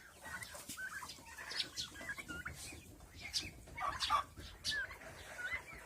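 Chickens and a turkey in a backyard poultry yard cluck and call in scattered bursts at close range, soft overall, with a few sharper squawks mixed in.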